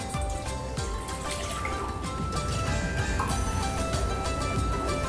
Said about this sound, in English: I am going to add 1 cup water